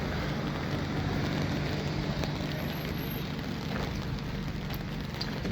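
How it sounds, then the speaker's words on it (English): Steady rain falling outdoors on a Sunday morning, a constant, even hiss with no breaks or distinct drops standing out. "And it's raining."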